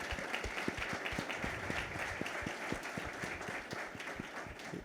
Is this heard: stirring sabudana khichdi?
no